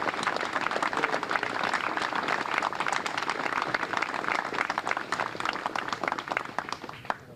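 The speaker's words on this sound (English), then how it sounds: "Please give a nice round of applause for the Boston firefighters, Greater Boston Firefighters" Audience applause at an outdoor South Boston Vietnam memorial anniversary ceremony after a firefighters' pipes and drums performance, a steady spread of many hands clapping for about seven seconds with no talk.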